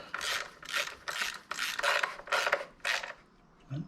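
A ratchet clicks in quick bursts while bolts on a Vauxhall Insignia cam rocker cover are snugged down, with about seven short rhythmic ratcheting strokes, close but fairly quiet.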